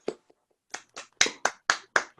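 At the close of an online afternoon lecture, a lone listener claps about eight times in a quick, even rhythm. Each clap is sharp, close and distinct, with short silences before the clapping settles into its steady beat.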